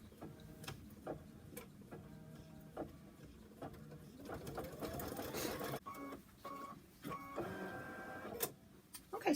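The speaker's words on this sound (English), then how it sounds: "I'm going to go ahead and stitch" A Kimberbell embroidery machine stitches a Kimberbear design, its rapid mechanical whirring steady and close, broken by repeated sharp ticks and short pauses as the needle runs.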